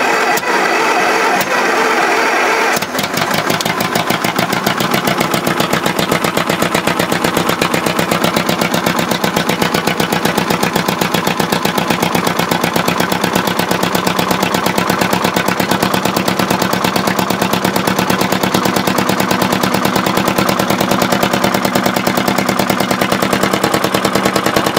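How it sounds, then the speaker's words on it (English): A small gasoline pony motor serving as the starter engine for a diesel fires up after a quiet moment and keeps running, a loud, rapid, evenly spaced popping chatter that stays steady throughout. "That's just the pony engine."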